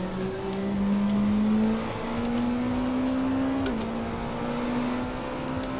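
A BAC Mono race car engine in a VR sim racing game drones steadily and loudly, its pitch climbing slowly, then dropping sharply at a shift before climbing again.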